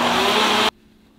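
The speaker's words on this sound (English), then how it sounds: "Blend it on high." A blender runs on high speed blending hot chocolate, a loud steady whir for well over half a second before it cuts off abruptly into near silence.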